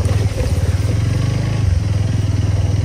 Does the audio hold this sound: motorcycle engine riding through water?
yes